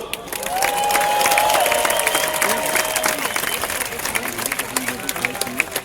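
Crowd applause and cheering at a gladiator combat show in the arena at Pula, clapping swelling under a loud announcer's voice, with a whistle-like tone rising early and claps thinning toward the end.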